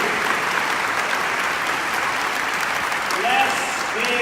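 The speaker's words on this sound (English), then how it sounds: "Let's give him a warm round of applause." An audience claps at a town hall event in Charleston, with dense, sustained applause that stays loud and steady throughout and faint voices underneath.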